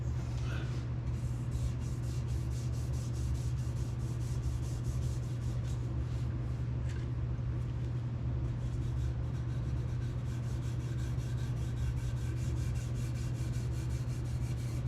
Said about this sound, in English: I really like how the Scotch-Brite allows me to really work this into the grain of the wood.